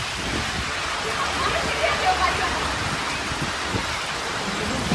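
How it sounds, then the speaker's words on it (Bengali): Heavy rain pours down steadily in a dense, even hiss, with a few faint low rumbles underneath. "দেখো কি জোরে বৃষ্টি স্টার্ট হয়ে গেছে"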